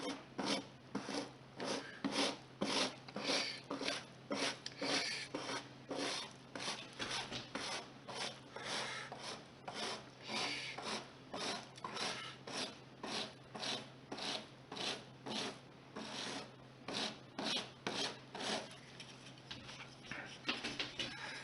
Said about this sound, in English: now I'm scraping the ties clean